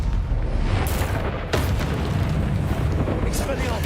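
Fiery spell blast in the Hogwarts Legacy video game, a booming burst that hits about a second and a half in, layered over dense continuous game rumble and combat noise.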